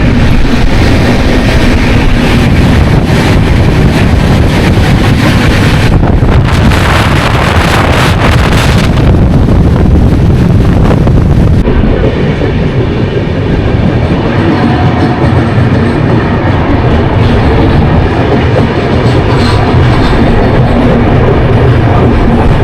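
The 12903 Golden Temple Mail passenger train runs on rails between Mumbai and Amritsar through Rajasthan near Sawai Madhopur, giving a loud, steady rumble of wheels and carriages heavily buffeted by wind, with no voices.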